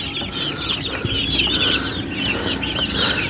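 Growing chicks in a Filipino backyard brood cluck and peep continuously, a busy close flock chatter with overlapping calls and no talking.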